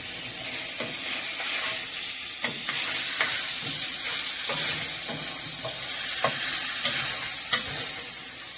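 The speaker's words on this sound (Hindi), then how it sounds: "इसको आपने उलट पुलट करते रहना ताकि अच्छी तरह से ये पक सके" Spicy Chinese chicken legs with chopped green chilies stir-frying in a pan, a steady loud sizzle broken by repeated scraping stirs of the spatula, close up with no voices.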